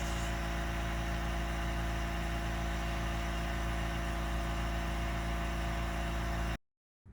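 A Fortress 6-gallon ultra quiet air compressor running in a garage gives a steady, even motor drone with a low hum, continuous for several seconds before cutting off abruptly near the end.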